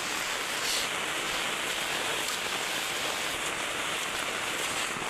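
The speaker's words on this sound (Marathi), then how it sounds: "पाऊस कसो पडता बघा" Steady rain falls in a dense, even hiss with no pauses, close by and fairly loud, with no voices, in the Konkan countryside.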